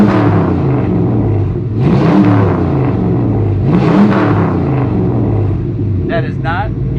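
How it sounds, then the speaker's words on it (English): LS-swapped 1968 Chevrolet Impala SS Pro Touring V8 idling with a deep, loud rumble close by, blipped a couple of times into brief revs, with a voice speaking briefly near the end. "How about we hear the rumble under the hood of this LS Power in this Impala?"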